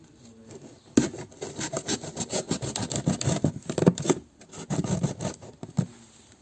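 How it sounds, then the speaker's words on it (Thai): A blade scrapes and rasps through a plastic pot, trimmed from the inside to plant potatoes, in close, steady back-and-forth strokes with a brief pause midway. "เราก็จะมาปาดตรง ด้านนี้กันนะคะปาดจากข้างในจะง่ายกว่าค่ะ"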